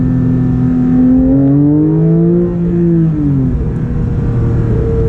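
A Porsche 992 GT3 with a PDK gearbox drives in sport mode, its engine loud and close, the tone climbing and then easing back in a smooth, droning note from inside the car.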